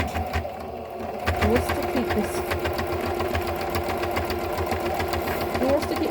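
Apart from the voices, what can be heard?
sewing machine straight stitch sewing lining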